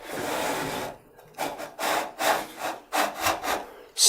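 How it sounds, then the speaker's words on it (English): A hand saw cuts a kerf through a wooden board, laid out with a knife wall for making wooden drawer slides. After a steady opening rasp come about six rhythmic back-and-forth strokes, close and clear, with no talking. "Slowly create a kerf that the saw then fits in and follows."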